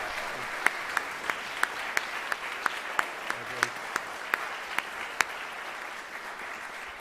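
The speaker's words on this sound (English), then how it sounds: "how about you join me in one final round of applause for everyone who was honored here tonight" Final round of applause from a ceremony audience at a college athletics hall of fame induction, steady clapping from the crowd with sharp individual claps standing out, continuous for several seconds.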